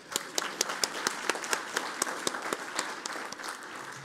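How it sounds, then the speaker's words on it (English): Applause for a fire captain at a DeKalb County Fire Rescue awards ceremony, a room of people clapping steadily with distinct sharp claps standing out near the microphone. "Let's clap for him"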